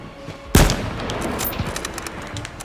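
A single loud, close sniper rifle shot in H1Z1 cracks sharply, then its echo rolls on and fades through a tail of distant rumble.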